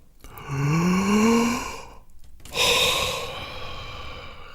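A long, drawn-out yawn with a rising voiced pitch, followed after a brief pause by a breathy exhale trailing off, close and fairly loud.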